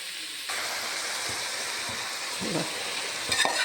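Tomatoes frying in a hot pan for chicken curry, a steady close hiss and sizzle with occasional soft stirring scrapes, the sizzle swelling briefly near the end.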